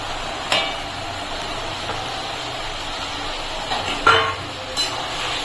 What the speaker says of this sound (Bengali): এখন আমি এর ভিতরে দিয়ে দিচ্ছি যে ভেজে রাখা আলু আর ভেন্ডিটা।